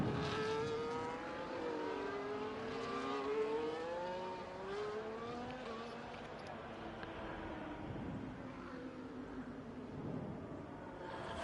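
An F1 car engine in a racing video game, on track for a timed lap at the Mexican Grand Prix, whines loudly through rising and falling revs and gear shifts, with a fainter engine drone behind it.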